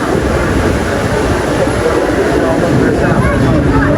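Train at a busy Bangkok rail station during Chinese New Year crowds, a loud continuous rumble of a train moving close by, with people talking underneath.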